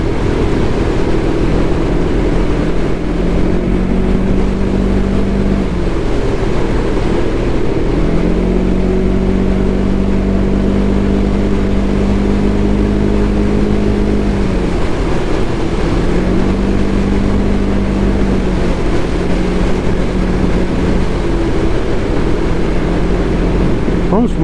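A Can-Am Ryker three-wheeler rides along the road, its engine droning steadily under wind noise, climbing and dropping in pitch with several gear changes, and a rider talks over it.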